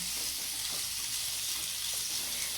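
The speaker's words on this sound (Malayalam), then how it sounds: "ചെറുതായിട്ടൊന്ന് അരിഞ്ഞിട്ടിട്ട് അതൊന്ന് ഫ്രൈ ചെയ്തെടുക്കാം" Chopped onions fry in a pan as the base for a crab roast, making a steady, even sizzle with faint stirring scrapes, low and continuous without talk.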